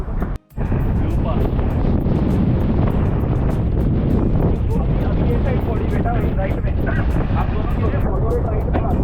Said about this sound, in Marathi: हवा खूप आहे त्याच्यामुळं वारा लोटतो थोडे